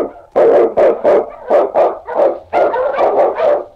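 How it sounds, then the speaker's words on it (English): Sled dogs bark in a radio drama set in the Yukon snow, Eskimo lead dogs giving a rapid run of loud, close barks in quick bursts, with some yipping and howling mixed in. "The Wonder Dog King, swiftest and strongest of Eskimo lead dogs"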